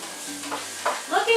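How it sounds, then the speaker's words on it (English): Vegetables sauté in a pan, heard as a brief, close sizzle with a couple of stirring scrapes. "Now let's check on these and make sure that they're sauteing correctly."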